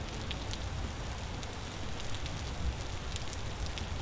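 Rain falls steadily in the Vintage Story video game, a soft even hiss with scattered faint droplet ticks, quiet and with no voices.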